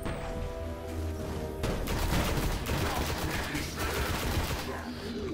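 Assault rifle fire in the Destiny video game: sustained rapid bursts of automatic gunshots rattle loudly and steadily for several seconds, close up, with no clear talking.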